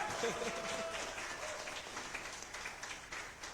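Quiet, steady applause comes from an audience at an Indonesian business seminar, a soft wash of many hands clapping at some distance with faint voices mixed in.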